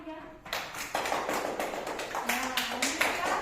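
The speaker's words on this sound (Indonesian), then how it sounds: "Tepuk tangan dulu untuk kelompok 3." A classroom of students claps for a group presentation, with irregular hand claps building after a brief spoken opening and a voice talking faintly over the clapping.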